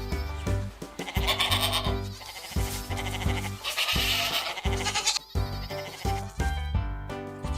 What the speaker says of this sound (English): A goat bleats.